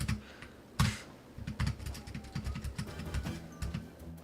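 Rapid clattering keystrokes on a computer keyboard that has been modded with hair and dust to quiet it, a busy uneven patter with one louder key thump near the start and no talking.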